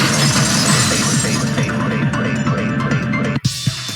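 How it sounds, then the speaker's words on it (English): A vase breaks as a sound effect in the video game Danganronpa 2, a loud burst of shattering followed by rattling debris and a throbbing tone, then a sharp cutoff and a brief last crack. "If it wasn't the window, then what broke to make that sound? A vase."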